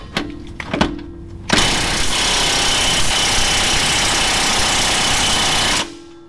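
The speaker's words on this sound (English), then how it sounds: "I've got my 18 already on my cordless impact gun" A cordless impact gun on a Jeep JK rear shock bolt gives a few short bursts, then a long continuous loud rattling hammer for about four seconds before cutting off, close and alone.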